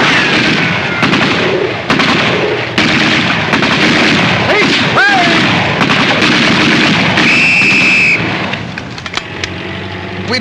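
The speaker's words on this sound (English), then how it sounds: "Stop shooting! We'll surrender." Cartoon gunfire from a war comedy, dense loud shooting and bangs throughout, with a whistling tone and shouted voices mixed in before the din tapers at the end.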